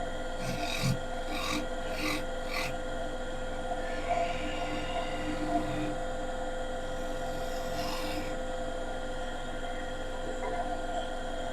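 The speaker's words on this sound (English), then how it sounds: "spindle gouge." A spindle gouge cuts into a wide-rimmed wooden bowl spinning on a lathe, giving a steady rasping scrape with a few short bursts of heavier cutting near the start and again later, continuous and fairly close.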